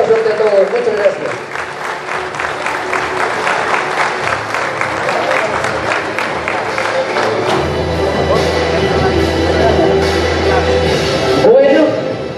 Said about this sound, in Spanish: El aplauso y el reconocimiento, señores.